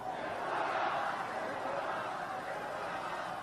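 Protest rally crowd condemning a visiting North Korean official's arrival, a dense roaring mass of shouting voices chanting together, loud and continuous with no clear breaks.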